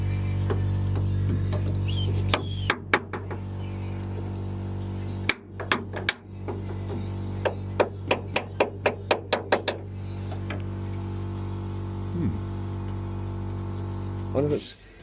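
A hammer tapping along a rusty chassis seam of a Mk3 Escort Bantam bakkie, giving a run of close, sharp metallic knocks, some isolated and others in a quick even burst, over a steady low hum.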